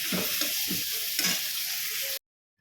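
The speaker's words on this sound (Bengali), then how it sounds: "এখানে মাছের তেলটা ভাজছি, মাছের তেল" Fish fat fries in a pan with a sharp sizzle and a few scraping stirs, fairly close, before cutting off abruptly into silence.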